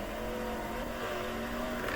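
Sprint car engines racing in the World of Outlaws '23 video game, a steady loud drone of several cars at speed with sustained engine tones throughout, no talking.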